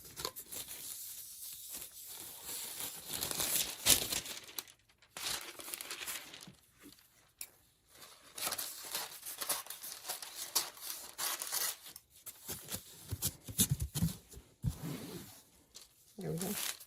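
Clean butcher paper handled and crinkled beside a heat press during a Cricut Infusible Ink transfer, giving bursts of close papery rustling and crackling with brief pauses.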